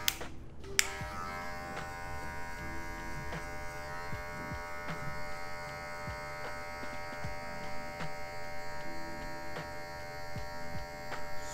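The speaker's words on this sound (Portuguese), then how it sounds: "Só aqui na maquininha, tirando alguns detalhes." Electric hair clippers buzz steadily while cutting a V-shaped fade, a close, continuous motor whine with faint clicks and snips of handling along the way.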